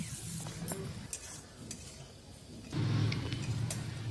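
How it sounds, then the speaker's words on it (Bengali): Chopped onions sizzle in hot oil for a prawn curry, with soft clinks of a utensil against the pan and a louder sizzling burst toward the end, close by, with no talking. "পেঁয়াজ কুচিগুলো দেওয়ার পর হালকা লাল লাল করে ভেজে নিতে হবে।"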